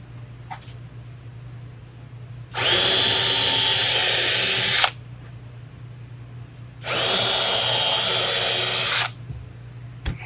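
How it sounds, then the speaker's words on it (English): Two bursts of a power drill whirring into the end grain of a wooden board corner, each about two seconds long, separated by a quiet pause over a low background hum. "And then we'll drill that."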